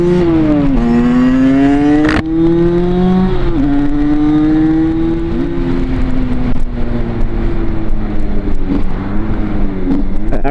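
A Derbi Senda 50cc motorcycle engine revs hard toward redline, a loud buzzing two-stroke whine rising and falling through several sharp pitch swings, continuous and close with no voices.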